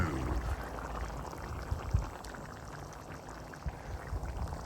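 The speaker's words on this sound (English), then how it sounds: "now we're gonna let it boil for like 25 minutes" Paella with saffron boils in a pan, a soft continuous bubbling hiss with small scattered pops, faint and close, with no voices.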